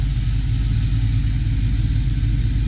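A 1992 Ford Mustang GT V8 fitted with an off-road X-pipe exhaust idles nearby with a deep, steady, slightly loping rumble, heard alone and unchanging throughout.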